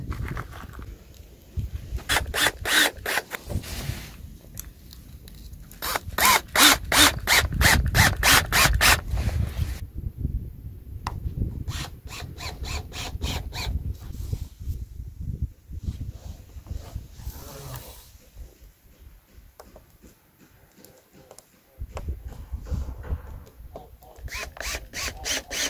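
Screws being driven while a greenhouse is assembled: close, rapid ratcheting bursts from a screwdriver, repeated several times with pauses and handling noise between them.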